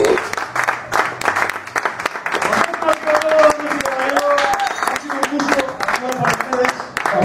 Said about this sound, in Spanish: Un aplauso para el marrano.